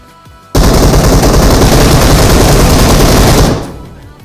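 Sustained automatic gunfire in the mobile shooter BGMI, a loud continuous burst lasting about three seconds after a quiet start, then tailing off.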